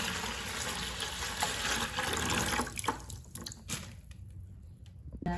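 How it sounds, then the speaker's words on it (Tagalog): Four liters of water pour into a bucket, a continuous splashing gush that thins toward the end into intermittent trickles and drips, close and fairly quiet, with no speech. "Bali, 4 na litro tubig sa timba."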